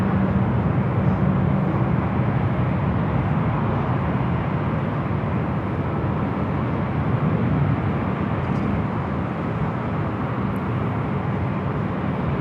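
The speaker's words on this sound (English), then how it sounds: "Flight 456, taking off runway 24 left." An airliner taking off from runway 24 left at LAX, a steady, loud broadband engine roar holding constant throughout with no talk.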